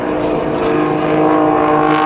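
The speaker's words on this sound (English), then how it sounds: "Notice the precision as Jim, utilizing the Bulldog's awesome 400 horsepower Lycon aircraft engine, pulls through the sky by that beautifully engineered MT propeller" A Bulldog aerobatic airplane with a 400 horsepower Lycoming engine and MT propeller drones loudly and steadily overhead at an airshow, a constant rich engine roar with no one speaking.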